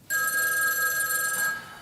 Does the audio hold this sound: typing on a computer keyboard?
no